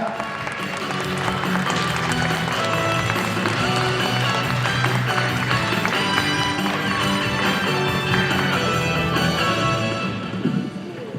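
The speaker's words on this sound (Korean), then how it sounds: "박수로 환영해 주시기 바랍니다" An audience applauds to welcome a speaker at a book launch event, with dense, steady clapping from a large crowd that continues for about eleven seconds at an even level.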